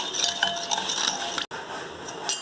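Baking powder and salt being mixed into batter for no-oven Nutella croissants, with soft continuous stirring, scraping and light clinks of a utensil against a bowl, close and fairly quiet, with a brief pause partway.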